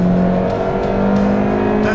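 A Peugeot 206 GTi drives hard on a race track, its engine a loud, steady, droning roar at close range that holds a constant pitch throughout.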